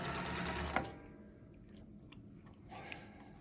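A Bernina 117 sewing machine stitching in a quick, even whir of needle strokes, close and quiet, stopping after about a second and leaving faint clicks and handling noises.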